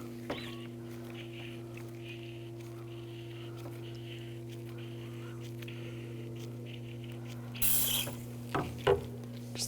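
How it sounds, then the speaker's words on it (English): A brake fluid transfer pump draws dirty fluid from a 2006-2010 BMW 550i, a steady low mechanical hum running throughout, with a few clicks and knocks near the end. "we're going to use a brake fluid transfer pump"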